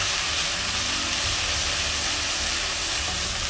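Chopped onion dropped into hot oil with cumin for an Indian fish curry gives a steady, dense sizzle, loud and close, hissing evenly throughout with no talk.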